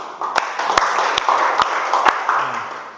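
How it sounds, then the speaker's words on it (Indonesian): A class of students applauding together, a dense steady patter of many hands with a few sharper claps standing out, close and fairly loud. "Tepuk tangan dulu."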